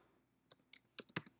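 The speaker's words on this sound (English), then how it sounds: "So I'll start typing in operating" Computer keyboard keys tapped in a few sparse, uneven clicks, soft and close in a quiet room, with no talking.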